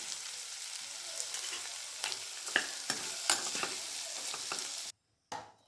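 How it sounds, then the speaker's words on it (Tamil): Mixed vegetables for sabji sauté and sizzle in a pan, a steady frying hiss broken by several sharp stirring scrapes, close and fairly quiet, ending in a brief silence and one last burst. "காய் நல்லா வதங்கிடுச்சு."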